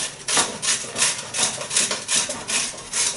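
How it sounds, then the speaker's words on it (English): An onion being grated into a bowl, with close rhythmic rasping strokes, about a dozen back-and-forth scrapes at an even pace. "And I'm going to also grate an onion."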